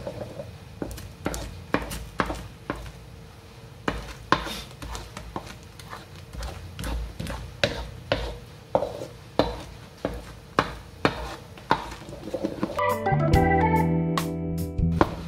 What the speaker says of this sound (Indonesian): Ini diaduk terus, jangan sampai lengket.